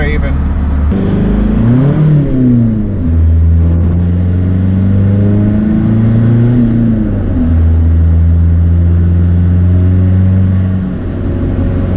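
A two-wheel-drive pickup truck sliding along a snowy, slippery highway, its engine rumbling steadily close by with rising and falling revs, a continuous low drone throughout.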